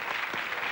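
A brief burst of audience applause on a Quebec television variety show, steady dense clapping filling the whole short moment with no voices over it.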